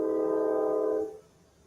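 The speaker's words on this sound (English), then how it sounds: "All right, we get it. You're a train." One sustained train horn blast holds steady for about a second, then cuts off abruptly into quiet.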